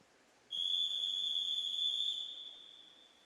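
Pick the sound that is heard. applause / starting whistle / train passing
starting whistle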